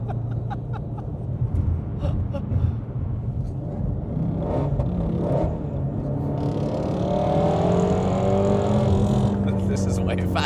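A car engine roars steadily at close range while racing another car, its revving rising toward the end, with a continuous low rumble and occasional talk over it.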